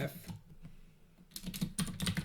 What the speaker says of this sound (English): the only thing I need to do to access menu bar is to press F10